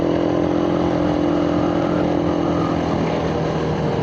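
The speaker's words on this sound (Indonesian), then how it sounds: "Motor setelah dicuci itu ditarikan terus performa gimana." A Suzuki Satria FU motorcycle, freshly washed, runs with a loud, steady engine drone and a slight rise in pitch as it accelerates, heard up close.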